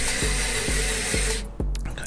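A Skil Twist 2.0 electric screwdriver whirs steadily and loudly on its second setting under applied force, with four regular clicking pulses, likely the clutch slipping, before the motor cuts out near the end.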